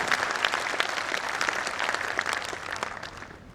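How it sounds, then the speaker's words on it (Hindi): Steady, full applause from a seated audience in a hall at a literary and cultural function, continuous clapping with no voices over it, slowly fading at the end. "मैं सदन से चाहूँगा कि अग्रिम पंक्ति में बैठे हुए शीर्ष अधिकारियों के लिए एक बार जोरदार तालियां बजाएं"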